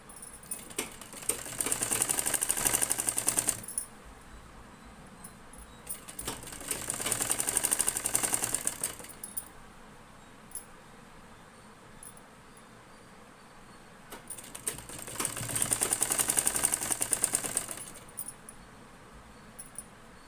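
A small sewing machine stitches thread piping in three separate bursts of rapid, whirring, mechanical running, each lasting a few seconds, with quiet pauses between them. Nobody talks.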